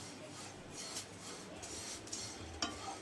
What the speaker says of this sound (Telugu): నెయ్యి వేసి ఫ్రై చేస్తున్నా కదా